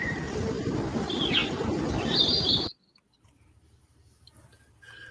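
Bright bird chirps and calls play back over a dense, noisy bed of ambient sound from a played video recording, then cut off abruptly to near silence with a few faint chirps trailing at the end.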